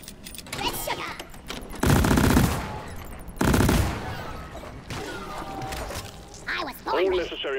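Deep Rock Galactic gunfire comes in two loud, dense automatic bursts a second or so apart, set against game voices and background effects.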